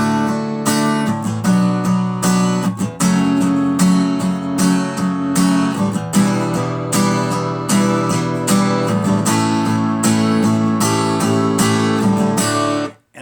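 Guitar strums the chord progression of a song, full chords ringing steadily in a simple four-beat measure, loud and close, alone without speech, ending with a brief cutoff.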